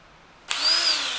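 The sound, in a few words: DeWalt power drill running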